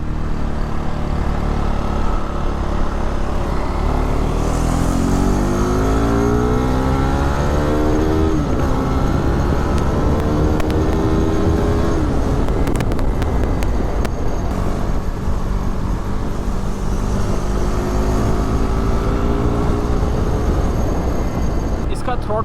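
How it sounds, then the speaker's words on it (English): A KTM RC 390 motorcycle fitted with a Powertronic and Fuel X pulls smoothly in 5th gear at about 4000 RPM on partial throttle. The engine drone rises and dips steadily under loud, constant wind rush. "I am in 5th gear right now at 4000 RPM and it's pulling away at partial throttle very smoothly"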